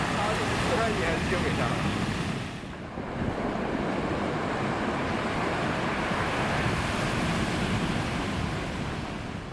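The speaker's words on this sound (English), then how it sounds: "there's like so many waves" Ocean surf breaking at a surf spot on Taiwan's east coast, a continuous loud roar of waves with heavy wind buffeting the microphone and a short dip in intensity partway through, with speech.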